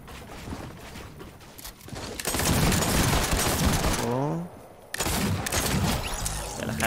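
Gunfire from a pistol in the Fortnite video game, heard as loud sustained bursts of shots with a brief gap partway through, mixed with game sound effects.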